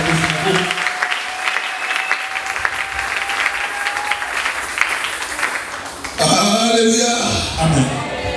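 A church congregation applauds at a Christian service: steady, dense clapping fills the first six seconds, then a voice speaks loudly over the fading applause.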